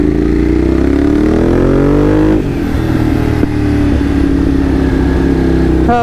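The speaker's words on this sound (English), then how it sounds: "definitely the sound of the engine and then that torque from the V-twin just pulling you right from low RPMs" A Ducati V-twin motorcycle revs while being ridden, its deep engine note rising through the gears with a pitch climb, then a shift and a steady loud drone close by.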